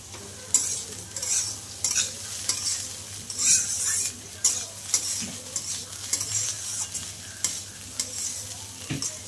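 Banana stem (thor) frying in a pan for a sweetened vegetarian dish, with a steady close sizzle broken by repeated scraping stirs of the spatula against the pan. No one speaks.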